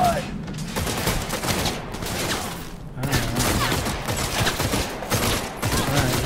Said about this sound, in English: I totally missed it with the machine gun